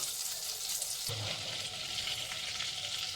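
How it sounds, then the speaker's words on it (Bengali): Butter melting in a hot pan, a steady bright sizzle and crackle that swells to a fuller fry partway through and keeps going close by without pause. "দেখো বাটার দিয়ে দিলাম, বাটারটা একটু মেল্ট হোক।"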